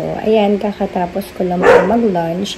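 A dog yips and barks in short, close bursts mixed in with someone talking indoors.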